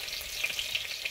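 Masala paste for chicken vade fries in a pan, giving a short, steady sizzle with small crackles close by and no voices.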